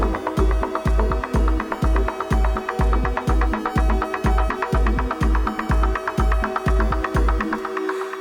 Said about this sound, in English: So right now we're getting a nice kind of sequence coming out of it.